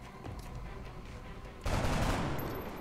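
Gunfire in the video game XCOM Enemy Unknown: a sudden loud burst of shots erupts partway through, after a stretch of steady game ambience, and rings on to the end.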